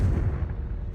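Confringo blasting spell in Hogwarts Legacy, a single heavy, booming explosion with deep low rumble that fades quickly over a second, no talking.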